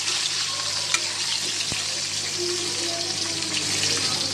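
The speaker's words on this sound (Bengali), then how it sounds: "আলুটা যাতে না লাগে তার জন্য নাড়া দিলাম" Potatoes fry in a pot for a home biryani, producing a loud, even sizzle with occasional stirring scrapes and one sharp knock of the spoon.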